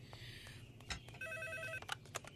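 A telephone rings nearby with a short electronic warbling trill, faint and alone with no talk over it.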